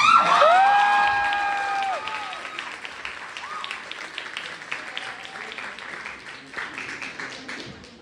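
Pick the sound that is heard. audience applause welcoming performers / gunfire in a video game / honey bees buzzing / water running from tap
audience applause welcoming performers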